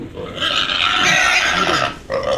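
Pigs brought in from Ilocos squealing loudly and close, one long harsh sustained squeal that breaks off briefly and then resumes near the end.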